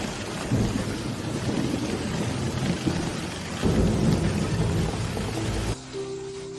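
Heavy rain pouring steadily at night with deep rumbles of thunder rolling underneath, loud and continuous before dropping off abruptly near the end.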